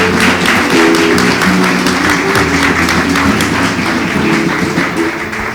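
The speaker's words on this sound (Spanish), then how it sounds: "un aplauso para ellos" A crowd at a synagogue gathering claps in steady, dense applause that carries loud and continuous from start to finish.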